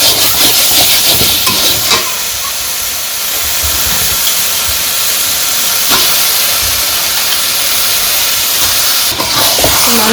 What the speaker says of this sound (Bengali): মশলা কষানো হয়ে গেছে এখন মাংসগুলো দিয়ে দিই